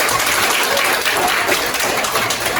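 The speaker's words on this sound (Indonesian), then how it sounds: "Tepuk tangan dulu dong buat." Audience applause at a school technology-habits seminar in a high school hall, a dense, steady wash of many hands clapping continuously at fairly close range without pause.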